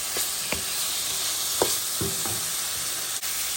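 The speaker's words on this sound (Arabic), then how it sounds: "نخلي غير هاد المطيشه غير تقلى شويه" Tomatoes sizzle steadily in a hot frying pan, a continuous loud crackling hiss with a few soft stirring clicks and scrapes, no voices.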